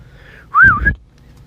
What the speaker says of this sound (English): when he whistled